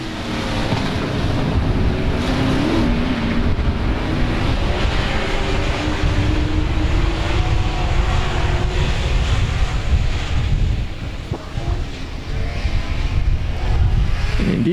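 Race cars roar away together at the green flag on the South Texas Speedway oval, a loud continuous wash of engines with wind buffeting the microphone throughout.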